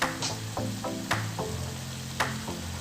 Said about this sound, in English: This is just a very quick stir fry.